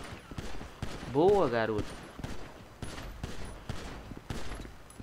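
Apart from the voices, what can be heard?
gunshots fired in video game GTA V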